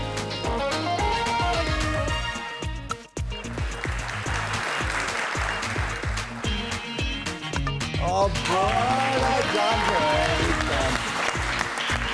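A studio audience at a comedy show breaks into sustained, loud applause for a cricket player, steady clapping that swells near the end with a voice talking over it.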